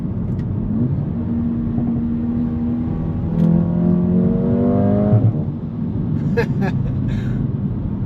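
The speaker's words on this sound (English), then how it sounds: "I do like those gear shifts." A 2025 Mercedes-Benz A35 AMG engine revs up through rising tones, shifting gears with quick drops in pitch, loud and close inside the cabin.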